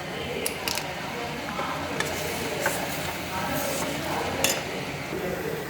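Ground paste is stirred into a thickening chicken gravy in a pot, with soft squelching and a few light clinks of a spoon against metal, heard close.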